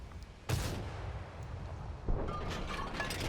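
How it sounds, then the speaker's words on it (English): Old-style artillery fire in a console video game: two heavy booming blasts, the first near half a second and the second around two seconds, each followed by a long rumbling tail over a dense battlefield din. "This is the old artillery."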